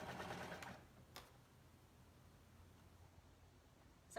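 A sewing machine stitches the underarm seam of a flutter sleeve and the side of a dress, a quiet whirring run for under a second, then near silence with a couple of soft taps.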